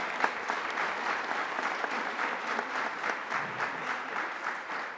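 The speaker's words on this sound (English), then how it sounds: "can we give a round of applause to our incredible preacher, our principal, Johnny Krangle" Sustained audience applause for a school principal, a steady wash of many hands clapping at moderate volume, fairly distant, with no talk over it.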